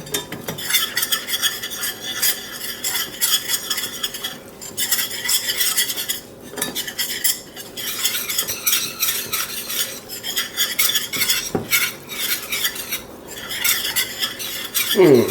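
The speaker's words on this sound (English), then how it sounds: "I'm just going to use a whisk for this, just to make sure we don't get all lumpy." Whisk beating flour into a sizzling chili mixture in a metal pan, rapid rhythmic scraping and clinking strokes repeated steadily with short pauses, close and fairly loud, no talking.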